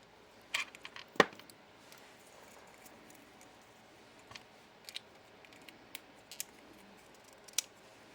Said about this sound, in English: I'm going to cut off enough for crimping.